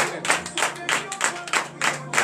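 A church congregation claps in acclamation at a morning prayer service in Benin, a steady run of loud, rhythmic bursts of hands with no talk over it.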